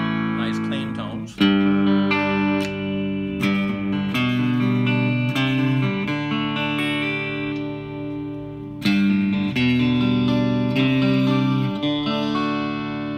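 Electric guitar, a Tom Anderson Classic on its single-coil pickups through a VA booster adding mild grind, ringing sustained chords and notes with two sharp new strums, loud and close.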